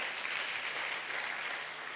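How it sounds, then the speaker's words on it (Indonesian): A church congregation at a Thursday service clapping their hands together, a continuous, moderately distant patter of many hands with no voices. "Tepuk tangan buat Tuhan Yesus."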